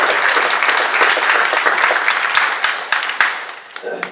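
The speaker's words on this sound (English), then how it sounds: "give him a raise round of applause." An audience claps and cheers in a dense, continuous wash of applause that thins toward the end, with a few sharp individual claps standing out.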